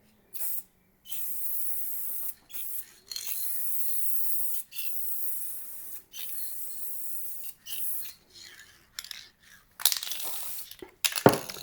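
A spray gun mists 2K clear coat onto a car headlight in short hissing bursts. The bursts come one after another, separated by brief silences, close and fairly quiet.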